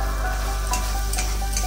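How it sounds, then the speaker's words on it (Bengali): Spice masala frying in released oil for a soybean and potato curry, a steady close sizzle with occasional soft stirring scrapes over a low constant hum. "মশলাটা ভালোভাবেই কষা হয়েছে"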